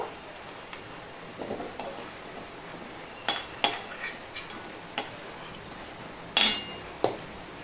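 Dry red chili and a bay leaf dropped into hot oil while cooking chana paneer masala, giving a soft, faint sizzle broken by scattered clinks and stirring taps of a utensil against the pan.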